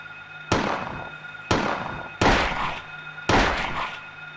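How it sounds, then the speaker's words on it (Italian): Four loud, sharp gunshots ring out at irregular intervals in the Silent Hill video game, fired at monsters, each a sudden blast followed by a short decaying tail, with no talking. "Magari potrei anche sparare un paio di colpi per ammazzarli."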